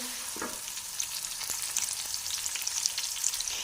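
Two onions browning in a frying pan give a continuous close crackling sizzle, with small pops and spatters throughout.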